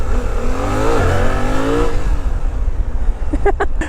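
A Suzuki V-Strom 800DE motorcycle revs and accelerates hard on a trail, its engine note climbing and swooping close by before easing off into wind and rough ground noise.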